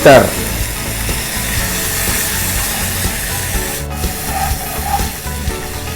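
Water poured into a sizzling garlic and black pepper stir-fry for beef black pepper, a loud continuous close sizzle and rushing hiss with a brief burst at the start, no talking.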